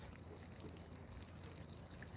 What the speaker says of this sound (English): I'm going to water it at the base